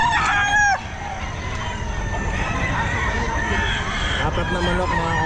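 Roosters crow and chickens cluck nearby at the Bocaue pet market, Philippines, with several overlapping calls and a loud crow at the start.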